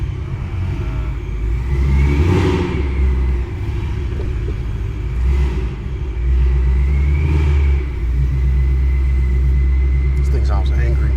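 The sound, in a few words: 700 HP Ford Mustang GT 5.0 engine revving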